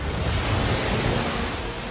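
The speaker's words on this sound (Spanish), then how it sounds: "El agua cede a la gravedad del Sol y se forma un enorme tsunami mundial." Waves surge in a continuous, roaring wash of ocean water during a vast worldwide tsunami, a steady dense rush with no pauses and no voices.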